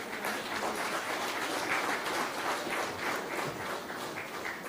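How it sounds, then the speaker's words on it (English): An audience at a chemicals and petrochemicals award ceremony gives a round of applause, a dense, fairly faint patter of many hands clapping continuously throughout. "can we have a huge round of applause for each and every one of you present here?"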